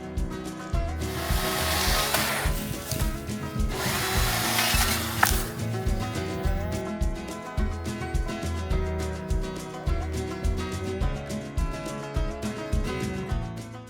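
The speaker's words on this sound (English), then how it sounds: "I've definitely been putting this electric chainsaw through its paces" An electric chainsaw cutting through wood while clearing overgrown farmland, a loud close buzzing, grinding cut that settles into a rhythmic pulsing as the blade bites repeatedly, with no talking.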